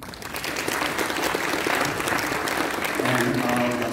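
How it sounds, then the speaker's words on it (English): An audience at an anniversary celebration dinner applauds, with steady, full clapping from many hands close by and voices and speech emerging over it near the end. "Please give them a hand of applause."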